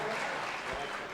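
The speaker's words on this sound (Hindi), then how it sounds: "दोस्तों जरा तालियां, पुरजोर तालियां बजाएं" Faint, distant applause from the audience at an Urdu poetry mushaira, a soft, even wash of clapping for just over a second.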